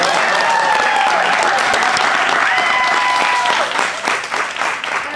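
An audience at a live rental-business panel claps for the speakers, dense loud applause that holds steady, then thins and fades toward the end, with voices faintly mixed in.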